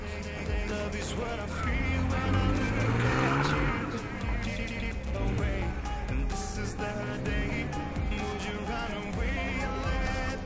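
A car threads through cones on a slalom course at the 2016 Kirovakan event, its engine revving and surging up and down amid crowd noise and a busy outdoor mix.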